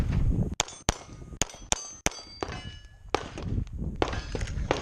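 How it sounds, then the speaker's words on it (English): Pistol shots ringing steel targets at a Steel Challenge match, a quick string of sharp bangs each followed by a metallic clang, close and loud, with shuffling between shots. "Nice shooting, James."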